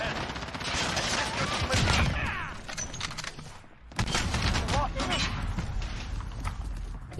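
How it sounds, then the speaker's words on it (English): Rapid SMG bursts crack through a Modern Warfare beta multiplayer match, dense and continuous with a brief dip midway, loud and close with layered battle noise throughout. "That's an SMG."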